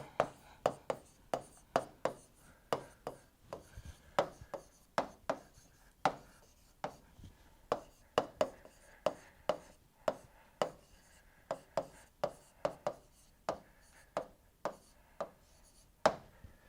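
A marker taps and squeaks across a board in quick, short strokes, a long irregular series of close, crisp scratches with brief pauses between letters.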